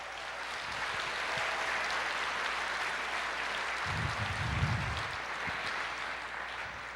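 A church congregation claps together in a steady, even roar that fills the room for the whole stretch, with a brief low murmur of voices rising underneath partway through.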